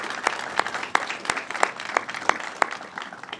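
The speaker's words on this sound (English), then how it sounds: "So let's give them all a round of applause on their success today." Applause from an audience at a government press event for the Suffolk County Police, fairly sparse and quiet clapping with a few distinct louder claps standing out, brief and without talk.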